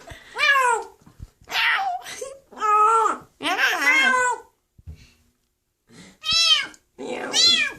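A hungry stray kitten gives a run of loud, strained meows and wailing cries while eating, close by, in repeated bursts with short pauses between.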